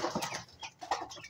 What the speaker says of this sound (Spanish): Acá andan unos pollitos, mira.